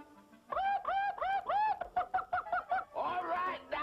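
A man imitates bird calls with a rapid series of rising, chirping whistles, then shifts into rougher, cackling, fowl-like sounds.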